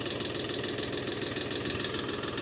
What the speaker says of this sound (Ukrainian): на холостих, тракторець.